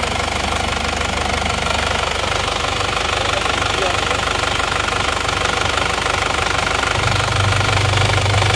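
A cold engine runs with a loud, rapid metallic knocking over a continuous mechanical drone, close and steady throughout, with a deeper tone entering near the end.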